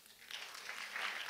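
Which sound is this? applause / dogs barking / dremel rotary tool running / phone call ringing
applause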